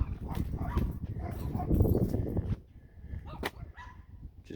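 Several sharp dog barks ring out near a pickup truck being built up, a busier stretch giving way to a few isolated yaps in quieter air.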